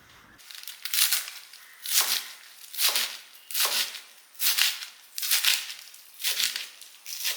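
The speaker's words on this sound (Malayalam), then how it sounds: "ഇനിയിപ്പോൾ ഇത് ഒന്ന് അരിയാം" Close-up rhythmic chopping of spinach leaves, about eight crisp, evenly spaced knife cuts, with no talking.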